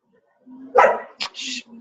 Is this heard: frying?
no